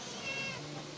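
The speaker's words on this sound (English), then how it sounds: "By the way, the cat's name is Lizzie." A pet kitten gives one soft, drawn-out meow, heard alone and close by.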